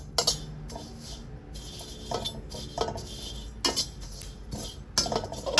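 A ladle scrapes and presses chili being dry-roasted over low heat in a pan, giving irregular metallic clinks and scraping strokes, fairly close, with a soft hiss between them.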